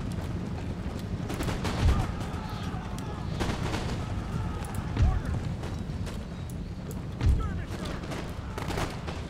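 Gunfire from troops in a video game battle, scattered sharp shots and volleys at mid distance over a busy rumbling background, with a few louder bursts standing out and a person talking over it.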